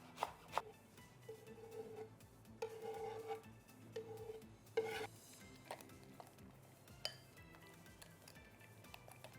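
Celery and radishes are thinly sliced on a board for a cos salad, giving sparse, quiet knife taps and chops at irregular intervals, mixed with faint clinks of kitchenware.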